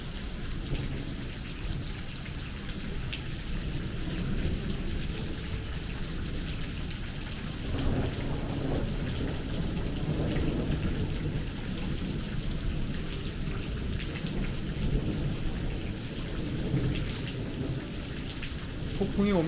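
Hailstorm with heavy rain and rolling thunder over an Oklahoma backyard, a steady dense downpour roaring throughout with deep thunder rumbles swelling in the middle.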